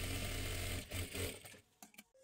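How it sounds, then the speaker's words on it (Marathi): A sewing machine runs fast along the edge of blouse fabric, a loud steady whirring stitch that pauses in short bursts and then trails off into a few small clicks and handling sounds. "ह्या बाजूला कपडा घ्यायचा आहे आणि एकदम कडेकडेला दापटीप टाकून घ्यायची आहे."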